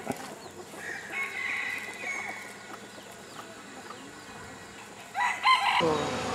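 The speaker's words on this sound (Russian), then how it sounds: "Это уже не дикие петухи." Domestic roosters crowing in Thailand, a few fairly faint calls against a quiet outdoor background, with a louder nearer crow and some clucking toward the end.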